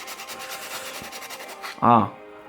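Sandpaper rubs rapidly against the grip of a penhold table tennis racket in a quick series of scratchy back-and-forth strokes, then stops, followed by a brief voiced sound.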